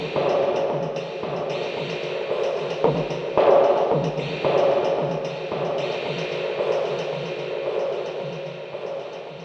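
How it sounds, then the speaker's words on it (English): Synth tone washed in shimmer reverb and 608 multi-tap delay, a steady sustained pad with soft repeating echoes and gentle pulses, moderate in level and heard alone. "this thing with effects, being the shimmer and 608 multi-tap, sounds like this"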